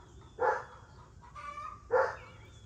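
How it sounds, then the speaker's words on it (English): Two sharp dog barks ring out, spaced about a second and a half apart, with a faint bird-like call between them against quiet background. "So sorry, she's barking."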